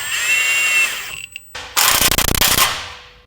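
A power tool tightens a torsion key bolt on a 2024 GMC 2500: a whine comes first, then a short pause, then a loud rattling impact burst that lasts about a second and fades close by.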